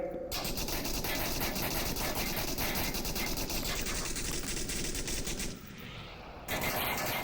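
Sustained automatic gunfire from suppressive fire in the VR shooter game Onward, a dense rapid volley of shots running nearly the whole time, with a brief dip before it resumes at full loudness.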